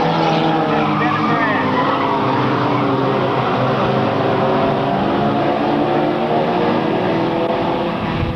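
A race car engine revving hard on a straightaway and shifting midway down before dropping back a gear for the turn, a loud, continuous mechanical roar with a faint voice talking over it.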